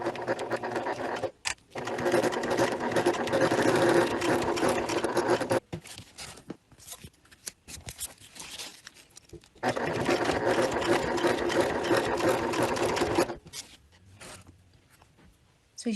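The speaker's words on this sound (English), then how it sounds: "we're going to stitch along that folded edge on the one side, back stitching well as the other side" Sewing machine topstitching along the folded edge of a leather bifold wallet, two long steady loud runs of rapid mechanical stitching separated by a quieter pause with small handling clicks.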